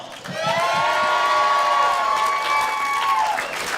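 A small comedy-club audience in a hotel venue cheers, whoops and claps steadily for several seconds, with a few shouts rising over continuous applause before it tapers off.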